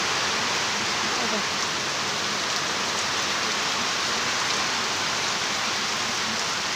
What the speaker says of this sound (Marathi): पाऊस भरपूर मोठं आहे भाऊ